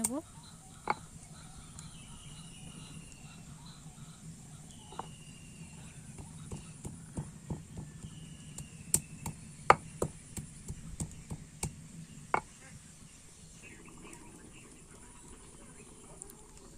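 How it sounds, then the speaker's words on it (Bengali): Garam masala is ground by hand on a traditional Bengali stone slab and grinding stone (shil nora). Irregular knocks and clicks of stone on stone sound over a low scraping bed, with a voice talking quietly underneath. "এবার আমি শিল নড়ায় গরম মশলাটা বেটে"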